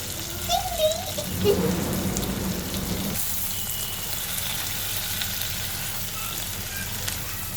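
Shrimp fry in a pan while being stirred, a dense continuous sizzle with a brief burst of utensil scraping early on, then a steadier, slightly quieter crackle.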